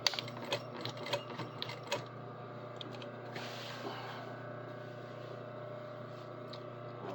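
A sewing machine back stitching fabric, a run of quick close mechanical ticks and taps at the start, then a fainter steady motor whir continuing underneath with occasional light clicks.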